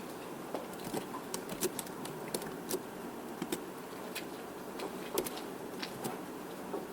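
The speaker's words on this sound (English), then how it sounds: "Typing with one hand is hard." Someone types one-handed on a computer keyboard, producing sparse, irregular clicks and taps at close range over a quiet room hum, with no talking.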